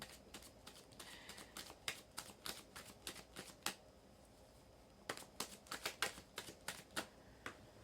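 Oracle cards being shuffled by hand, a quiet close run of crisp riffling bursts in two clusters separated by a brief pause, with no talking.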